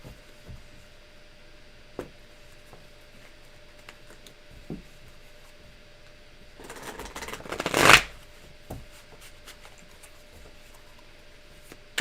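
Tarot cards being shuffled: a quiet room with scattered soft ticks, then one brief riffling shuffle that builds to a sharp flurry of card slaps and stops, close and alone.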